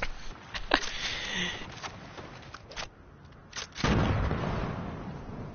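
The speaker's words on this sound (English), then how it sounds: "He's throwing C4." Explosions from C4 charges in the video game Fortnite, heard as a couple of sharp bursts followed by a louder, sustained rumbling blast near the end, with faint laughter around them.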